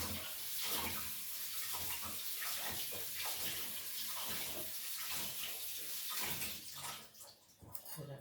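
Green chilies are rinsed under a running kitchen tap, giving a steady gushing stream of water that splashes over them before the flow is cut near the end.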